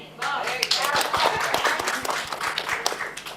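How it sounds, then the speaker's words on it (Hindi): An audience at a Mother's Day celebration claps at an uneven pace for a few seconds, the claps sitting under and around a speaking voice. "तालियां सबसे पहले मैम को दी तालियां।"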